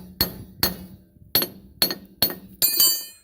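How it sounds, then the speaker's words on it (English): A hammer strikes the rear brake drum of a Mk1 Ford Transit van, six sharp metallic blows at uneven intervals, each ringing briefly with a bright clink, close and loud with no talking. "Then you get the hammer and hit the brake drum."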